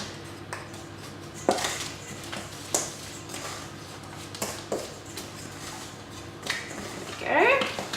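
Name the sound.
mixing flour and cinnamon with a wooden spoon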